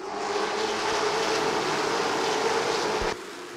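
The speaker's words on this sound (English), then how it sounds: "That's the sound of a racetrack." Stock cars roaring around Southern National Motorsports Park during a CARS Late Model Stock Tour race under caution, a loud continuous engine drone with a sharp cut near the end, no talk.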